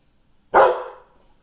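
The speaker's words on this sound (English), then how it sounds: "And the barking starts." A dog gives a single loud, close bark, a sharp burst that tails off over about half a second in an otherwise quiet room.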